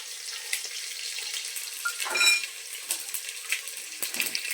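Mustard seeds splutter in hot oil with bay leaf and slit chillies for rajma masala, a steady sizzle broken by repeated sharp pops and crackles close by, no voices.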